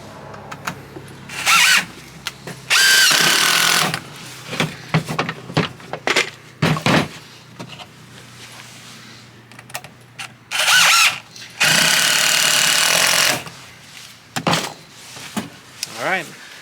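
A power drill drives screws into the corners of wooden 2x4 frames for a raised garden bed. It sounds in several short close bursts, two of them sustained for over a second, separated by quieter handling clunks.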